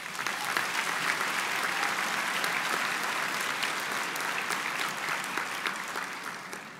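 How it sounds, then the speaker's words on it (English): A convocation crowd applauds at a Humber business school graduation, loud sustained clapping from many hands filling the hall evenly with no pause. "I think you deserve a round of applause as well."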